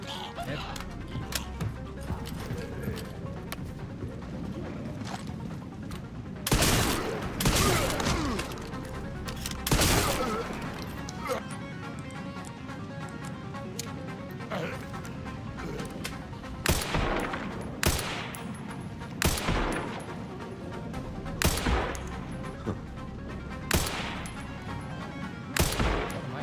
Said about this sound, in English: What am I shooting at?